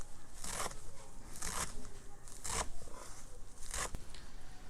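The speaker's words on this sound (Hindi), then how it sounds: "और पत्ते जो हैं इनको हम बारीक बारीक काट लेंगे।" Bathua and mustard greens leaves are chopped finely with a knife, with four separate crisp cutting strokes at uneven intervals, close and fairly quiet, with no speech.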